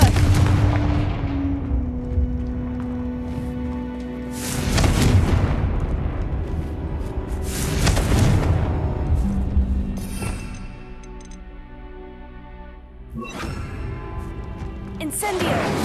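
Repeated Confringo fire-blast spells explode in the Hogwarts Legacy video game, several loud booming bursts spaced a few seconds apart over steady game music, with a voice speaking briefly.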